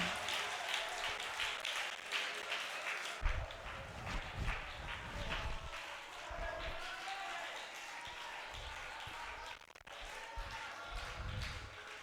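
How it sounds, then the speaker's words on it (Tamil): Congregation clapping hands during a Tamil Christian church service, a dense run of claps swelling and fading over about twelve seconds, with a voice speaking over parts of it. "உன் கைத்தட்டலை ரினிவல் பண்ணிக்கொள்வாயாக."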